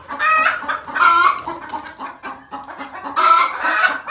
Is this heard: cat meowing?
no